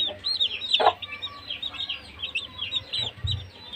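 Aseel chicken chicks cheep and peep in a close, steady stream of high chirps, with low farmyard clucking underneath.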